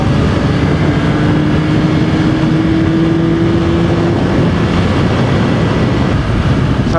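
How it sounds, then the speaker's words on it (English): Yamaha R9 (2026) with its 890 cc CP3 cross-plane three-cylinder engine, giving a loud, continuous drone with a steady tone that holds and then fades, running throughout with no talk. "So it has a CP3 engine"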